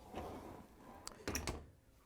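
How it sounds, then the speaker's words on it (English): A Whirlpool/KitchenAid/Maytag dishwasher door swings shut with a couple of firm thuds and a brief rattle, close by and moderately loud, followed by quiet. "Then we can close the dishwasher door."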